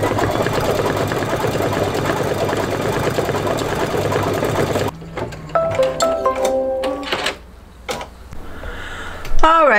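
A single-needle embroidery machine stitching, a loud fast mechanical whir that stops after about five seconds, followed by quieter clicks, creaks and brief beeps from the machine.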